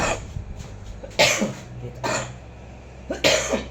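Three rough bursts of coughing, close and fairly loud, separated by short pauses over a low steady hum.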